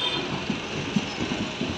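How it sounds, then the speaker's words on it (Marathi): A local train on the Badlapur to Karjat line pulls in at a station platform, a steady loud rumble of wheels and carriages with faint rhythmic clacks over the rails. "ट्रेन आलेली आहे. आता मुंबईला जाईल."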